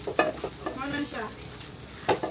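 Fried rice (chahan) with chashu and sliced onion is stirred in a pan, giving brief scraping strokes over a soft sizzle, with a couple of sharper clacks of the utensil and some background voice.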